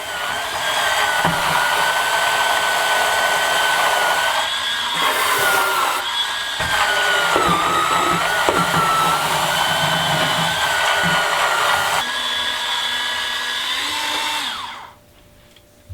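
A Lryifine electric spin scrubber whirs steadily at close range, a high motor whine with brief pitch shifts and a short drop in level before it cuts off near the end.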